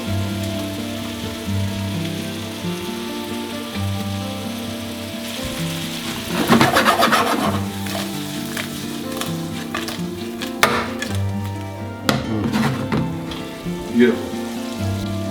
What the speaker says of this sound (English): just so I can finish it off with that proper sizzle